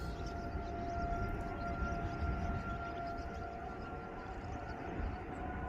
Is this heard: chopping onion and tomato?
no